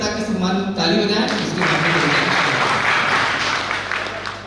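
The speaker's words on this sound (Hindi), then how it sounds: "एक बार सब अपने अपने पिता के सम्मान में ताली बजाएं" Audience applauding in honour of their fathers at a talk in Ujjain, a dense sustained wash of clapping across the whole clip, with a voice heard at the start.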